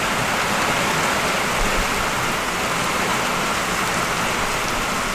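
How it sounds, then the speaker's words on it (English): Heavy hurricane rain pours down continuously, a dense loud steady hiss with no breaks and no voices. "Okay, it's starting to rain on my back."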